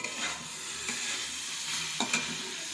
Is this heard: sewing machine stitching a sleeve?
no